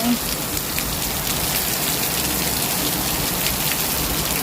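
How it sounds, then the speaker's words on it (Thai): Steady, dense rain pouring down close by, a continuous hiss of drops hitting surfaces with no letup. "ฝนตกเลยเนาะ"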